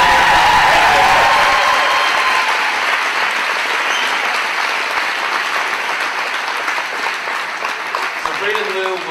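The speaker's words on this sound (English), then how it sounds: "So let's give them a round of applause." Audience at a university men's volleyball broadcast gives a round of applause, loud dense clapping at first that gradually thins and fades, with a voice briefly audible near the end.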